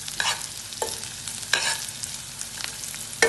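Hard eggs for egg biryani frying in a pan until golden brown, a steady soft sizzle broken by several sharp scraping stirs of a spatula against the pan, close and clear with no voices.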